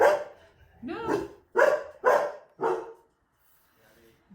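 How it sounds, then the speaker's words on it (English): A dog barks five times in a fairly even rhythm, loud and close, with a voice briefly speaking at the start. "Oops, my doggy's barking."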